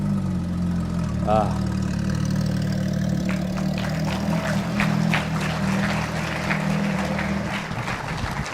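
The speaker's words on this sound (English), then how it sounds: "I do love the sound of that car." A Porsche engine idles with a steady low rumble throughout, while scattered claps and crowd noise break out in the background at a car club event.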